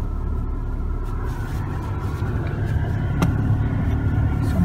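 A warmed-up car engine idles steadily in a low, continuous rumble, close and alone, with no one speaking.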